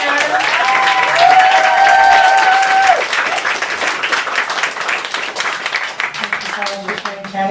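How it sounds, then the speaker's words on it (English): An open-mic poetry crowd claps in a loud, continuous burst while a voice talks over it during the first few seconds. The applause then thins into scattered, fading claps. "Give another round of applause for first time readers."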